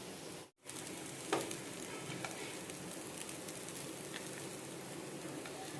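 Poha with grated raw mango cooks in a pan on a low-medium flame, a faint, even sizzle with a brief pause and a light stir.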